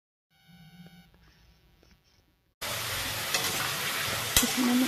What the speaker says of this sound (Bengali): এবার এটাকে আমি ভালোভাবে ভেজে নেব।